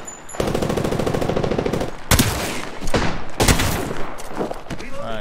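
Rapid automatic gunfire in an Apex Legends match: a close, loud stream of shots with sharp heavier cracks between bursts and brief gaps, over a busy game soundscape.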